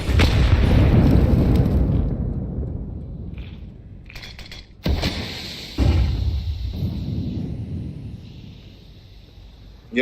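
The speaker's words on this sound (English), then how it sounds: "I throw the flashbang." A flashbang grenade in Counter-Strike 2 goes off with a loud boom that rumbles and decays, followed by further sharp bangs and bursts with lingering ringing noise.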